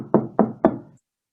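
Three heavy, evenly spaced knocks on a door during a stage performance of Macbeth, close and loud, each with a short resonant decay, then silence.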